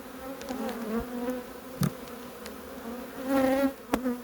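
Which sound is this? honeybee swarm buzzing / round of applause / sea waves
honeybee swarm buzzing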